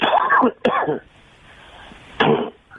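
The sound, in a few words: cough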